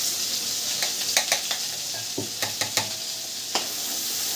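Chilli, onion, coconut, coriander, garlic and ginger sauté in a hot pan with a steady close sizzle, broken by repeated scraping clicks of a spoon stirring against the metal.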